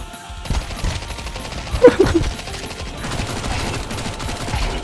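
Gunfire in Counter-Strike 2 comes as a short cluster of several quick shots near the middle, rising over a constant layer of game background noise.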